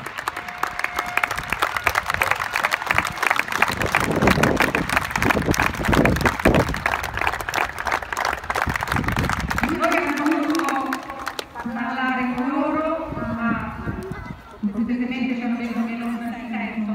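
Sustained applause from a crowd, many hands clapping steadily, before a voice starts speaking over a quieter hall.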